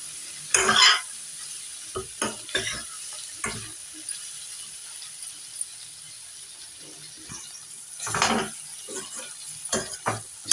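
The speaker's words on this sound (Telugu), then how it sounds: "ఇంకా వేగాలి ఇది." Sliced bitter gourd fries in a pan over low heat, a quiet background sizzle broken by sharp, irregular bursts of spatula stirring and scraping up close, with no talking.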